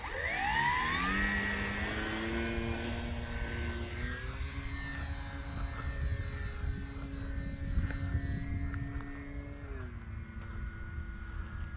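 A Cermark Fantasy Flyer radio-controlled model airplane flies with its propeller engine droning steadily and loudly throughout, the pitch sliding upward at the start and shifting again near the end as the throttle changes.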